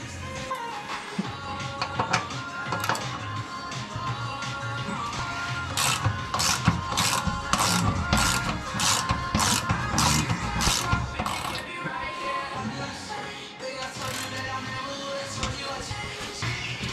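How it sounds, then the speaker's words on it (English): Rapid, regular ratchet clicking while 15 mm skid plate bolts are removed from a 2021 Ford Ranger, an evenly spaced run of sharp ticks over a busy mechanical background, close and moderately loud. "Got to pull all these 15 mil bolts out."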